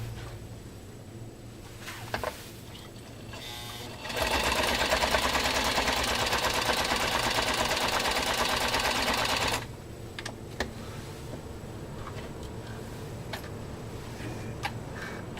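A Home 660 sewing machine runs a straight stitch through thick leather, a loud, steady rapid ticking hum lasting about five seconds, with quieter handling clicks and soft room noise before and after.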